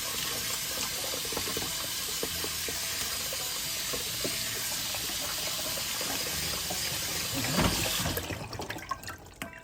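Rice rinsed under a running kitchen tap, a steady broadband rush of water splashing into a sink for about eight seconds before the flow stops, leaving soft drips and handling sounds. No one speaks.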